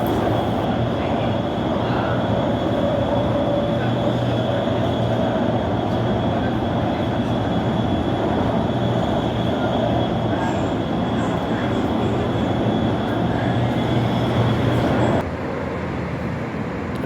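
A CPTM Line 13 Jade commuter train running between eastern São Paulo and Guarulhos, with a loud, steady rumble of wheels and traction motors and a sustained tonal whine throughout, heard from on board or close by.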